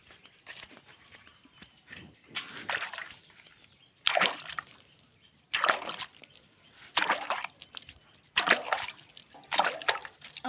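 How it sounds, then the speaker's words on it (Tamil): Water is poured from a container onto a newly planted guava sapling in soil, coming in several splashing bursts separated by quiet pauses. "எடுத்துகிட்டு போய் கொஞ்சமாக தண்ணி ஊற்றி வைக்கும்."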